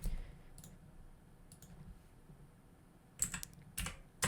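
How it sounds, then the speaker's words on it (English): Sparse typing on a computer keyboard while writing Discord bot code, a few soft scattered keystrokes early, then a couple of louder quick clusters of clicks near the end, otherwise quiet. "Now we're going to type error."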